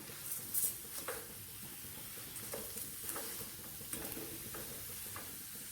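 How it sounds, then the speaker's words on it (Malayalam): Ripe banana sautéed in a pan with grated coconut and beaten rice, a low steady sizzle broken by soft, intermittent stirring scrapes, fairly quiet throughout with no talk. "ഈ പഴം നമുക്കൊന്ന് വഴറ്റിയെടുക്കാം"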